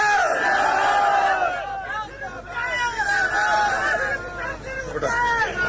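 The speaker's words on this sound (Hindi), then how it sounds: "जोरदार तालियों से स्वागत किया जाए।" A large crowd at a political nomination rally in Karnal roars and shouts in welcome, a loud, surging mass of voices and cheers with chanting that swells and dips over several seconds.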